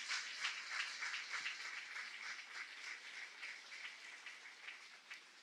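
A church congregation applauds steadily, dense clapping from many hands, heard from a distance and fairly faint.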